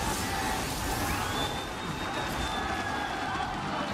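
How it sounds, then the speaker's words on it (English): An esports arena crowd roars after Gigabyte Marines beat TSM at MSI 2017, a dense, sustained wall of cheering that holds at a constant loudness throughout. "Listen to that crowd."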